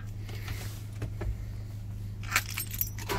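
A Mazda T4000 truck with two large batteries, jump started from a weak pack, runs with a steady low engine drone throughout, while a few sharp metallic clinks and jangles rise above it near the end.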